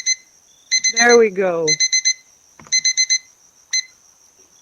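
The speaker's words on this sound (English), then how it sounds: "That was the alarm." An alarm clock rings in bursts of rapid high-pitched electronic beeps, loud and close, repeating in groups with short gaps, while a person speaks briefly over the first bursts.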